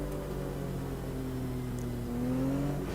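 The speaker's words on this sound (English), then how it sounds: "Again, more straight six engine noises to enjoy." A Porsche Cup car's straight-six engine in Automobilista 2 hums at a steady, moderate level, with its pitch rising gradually and then climbing more sharply near the end. No one speaks.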